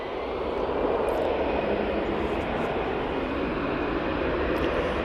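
Ryanair plane landing at Manchester Airport, heard as a loud, steady broadband jet engine roar that continues without letup throughout.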